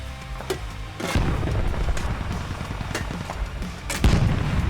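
Repeated gunshots crack and boom in a game firefight, sharp reports spaced irregularly over a steady rumbling background.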